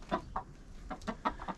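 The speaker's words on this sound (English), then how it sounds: "Here's your chickens." Chickens at a log cabin farm clucking in short, soft, scattered bursts, several quick calls close by in a quiet setting with no talking.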